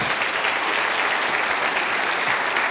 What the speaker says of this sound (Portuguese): Você pode aplaudir o Senhor?